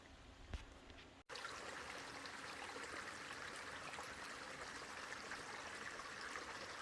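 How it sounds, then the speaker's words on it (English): Agua Caliente Creek along the Pacific Crest Trail flows steadily in a soft, continuous outdoor rush, quiet and even, with a brief knock and a short break near the start. "the water's flowing pretty good through here."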